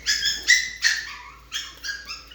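Rapid high-pitched barking from a long-coat chihuahua, six shrill yips in two quick bursts, near and clear.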